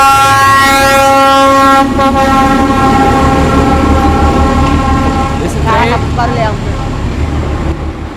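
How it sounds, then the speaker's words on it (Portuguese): A large, noisy passenger train bound for Ho Chi Minh City roars past close by in Vietnam, with a steady loud rumble and sustained horn-like tones throughout, while people talk underneath. "Esse trem é bem grande, bem barulhento."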